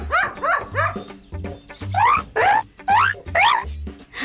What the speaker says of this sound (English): Barking is a dog's way of talking.